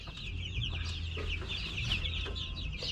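Brown Rhode Island chickens cluck steadily inside a coop, a close, soft chorus of overlapping clucks with no talking.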